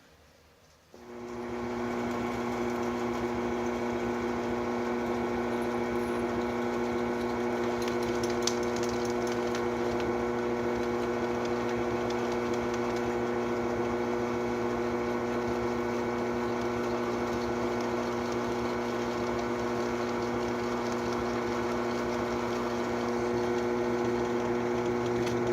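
A drill spins up and runs steadily while turning down 3/8 inch stock to make a shift drum detent winder for a Honda CB750. The motor whines with an even, constant drone and strong tones, with a faint brief tick partway through.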